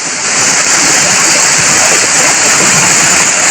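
Loud, continuous rushing water of a rain-swollen stream in the Konkan after torrential rain, roaring steadily like a torrent, broad and unbroken from start to end.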